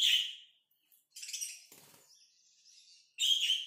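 Budgerigars (Australian parakeets) chirp in a cage, bright twittering bursts at the start and end with softer chatter between, close and fairly loud, no talking.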